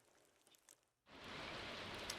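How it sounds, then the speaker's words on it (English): Rain in the video game Stardew Valley, a steady bright hiss of rainfall that starts abruptly after a quiet moment and continues evenly. "It's a rainy day, so we don't need to water the so many things that I planted yesterday."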